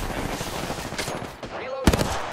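A quick burst of automatic gunfire plays out in an Apex Legends match: dense rapid shots for about a second and a half, then a louder sharp report near the end.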